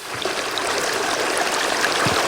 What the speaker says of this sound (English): The downpour created this temporary waterfall along Painted Cave.